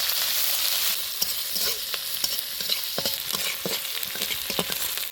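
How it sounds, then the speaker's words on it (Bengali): Sliced onion and chili fry with whole cumin in a pan, giving a steady sizzle broken by repeated scrapes and clicks from a stirring spoon. The sound is close and there is no talking. "গোটা জিরে, মিষ্টি ছাড়া ফোড়ন, কেটে রাখা পেঁয়াজ লঙ্কা ভালো করে নাড়িয়ে নিব"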